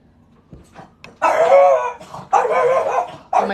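A dog barks loudly and close by in a few heavy bursts, with short gaps between them, after some faint low sounds at the start.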